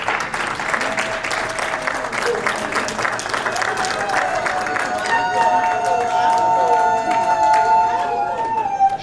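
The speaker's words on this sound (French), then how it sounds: "Applaudissons pour notre grand patriarche, son Excellence Paul Biya." A crowd applauds steadily throughout at a cultural day gathering in Washington, DC, dense clapping with some cheering mixed in, fairly loud and close.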